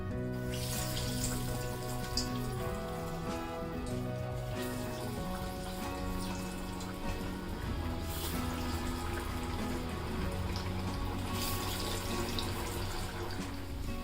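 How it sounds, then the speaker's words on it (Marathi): Dal vadas, South Indian lentil fritters, deep-frying in hot oil, giving a steady, dense sizzle and crackle that runs evenly throughout without pause or voices. "याच पद्धतीने मी बाकीचे पण वडे तळून घेते."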